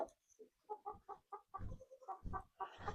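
Big, gentle Wyandotte hens clucking on a farm, a run of close, quiet, broken clucks and soft calls in uneven bursts.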